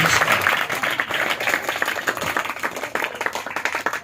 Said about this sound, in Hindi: मैं चाहूंगा पाक रूह के लिए रूह कुदस के लिए जोरदार ताली बजाकर खुदा के नाम की हालेलुया